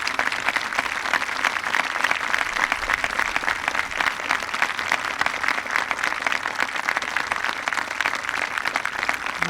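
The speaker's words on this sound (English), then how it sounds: "I think we should give them a round of applause." An outdoor audience at the 2000 dedication of the Oklahoma City bombing memorial applauds steadily. Thick, even clapping from many hands continues without a break, with no speech over it.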